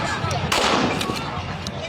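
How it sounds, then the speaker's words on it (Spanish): Gunfire rings out as police and soldiers shoot at protesters: a sharp loud crack followed by a few fainter reports over crowd noise and a murmur of voices. "Las imágenes de carabineros y militares disparando directamente a los manifestantes han sido registradas"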